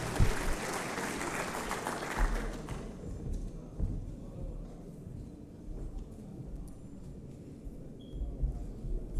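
Brief burst of applause from a conference audience at an East African economic cooperation summit, fairly loud for about two and a half seconds before dropping to a quiet room murmur with scattered faint sounds.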